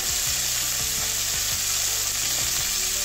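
Cauliflower and potato frying over medium heat, a steady dense sizzle with continuous oil crackle and a low rhythmic mechanical pulse beneath, loud and close with no talk.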